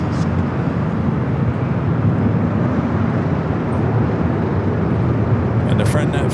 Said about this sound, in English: France up next. Flight 23 heading back to Paris.